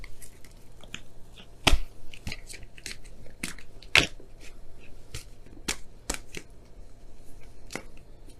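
Oracle cards shuffled for a tarot reading, heard as a run of crisp riffling flicks and snaps with two louder slaps, close and alone over a faint low hum.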